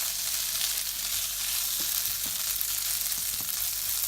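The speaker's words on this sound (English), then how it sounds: "So just fry that through, mix it all together." Curry paste fries in a pan for a chickpea curry, giving a steady, loud sizzle throughout with a few faint scrapes of stirring and no voices.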